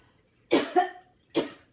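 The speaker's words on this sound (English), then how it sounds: "please pardon my cough" A person coughs three times, two quick harsh coughs close together, then a single cough after a short pause.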